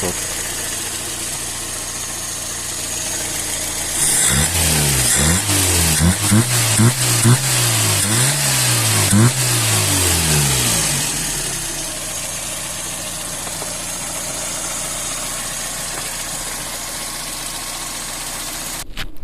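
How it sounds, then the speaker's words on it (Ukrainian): A carburetted engine fitted with a Solex carburettor idles steadily close by at about 800 rpm, with a louder, rougher stretch of revving partway through before it settles back to an even, continuous idle. "Нічого не трусить двигуном, все прекрасно працює, тримає оберти."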